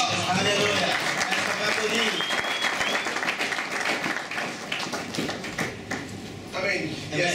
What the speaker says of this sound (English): Est-ce qu'on peut applaudir pour nous?